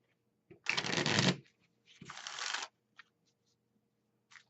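A deck of Magic cards is riffle-shuffled close by in two quick crisp bursts of rapid fluttering clicks, followed by a few light taps of cards being squared.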